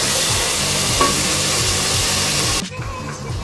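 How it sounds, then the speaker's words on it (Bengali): Masala of red chili powder and turmeric frying in a pan for ilish khichuri, a loud, dense, continuous sizzle with a rhythmic scraping stir that cuts off sharply near the end. "এখন আমি মশলাটাকে খুব ভালো করে আগে কষিয়ে নিব।"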